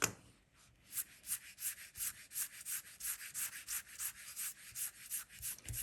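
An eraser rubbing quickly back and forth on watercolor paper makes soft, rhythmic scratchy strokes, about two per second, close and quiet with no talk.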